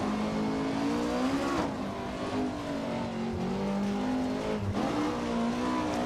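A rally car races through a stage in the driving game Richard Burns Rally, its engine droning steadily with rising and falling revs and gear changes, loud and close with no talk.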